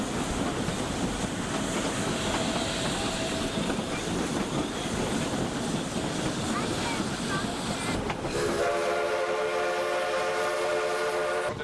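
Steady rumbling and clatter of a narrow gauge train rolling along the tracks, loud and close, with a sustained horn-like tone near the end.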